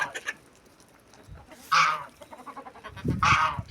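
Hens gathered around a feed container cluck in two loud, close bursts, one at a time with short pauses between, over a quiet farmyard background.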